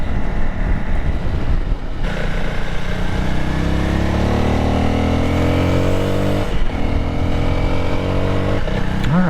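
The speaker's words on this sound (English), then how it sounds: "the bike seems to be running a little better" A Honda CRF300LS dual-sport motorcycle runs with its charcoal EVAP canister bypassed, the engine idling and then rising in a smooth rev before settling and revving again, loud and close with no voices.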